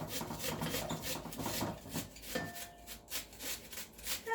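Onion grated into a bowl for spaghetti and meatballs: soft, quiet rasping strokes in a loose repeating rhythm, close by and faint, with no talk.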